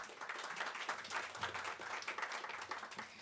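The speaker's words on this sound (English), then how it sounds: "have applause for our 2 speakers" Steady applause from a sizable audience at a university incubator roundtable, a dense wash of clapping that continues evenly throughout.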